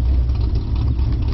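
A Ford Mustang 4.0 V6 with an X pipe, dual cherry bomb glass packs and quad exhaust tips idles close by, a loud, deep, steady burbling rumble with no one talking.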